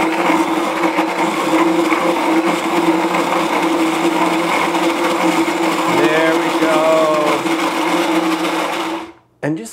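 A food processor pureeing peanuts into peanut butter, running as a loud, steady, close motor whir with grinding texture for several seconds before switching off abruptly.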